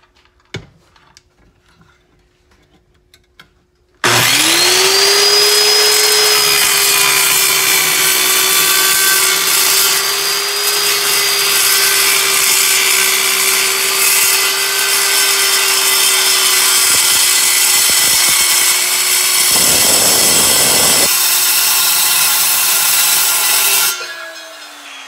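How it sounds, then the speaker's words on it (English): An 11 amp circular saw cuts aluminum in a cutting jig: a loud, steady high-pitched whine of blade on metal sustained for about twenty seconds after a sudden start, then winding down, with no talking. "I just wanted to show you guys our new aluminum cutting jig and tool we got."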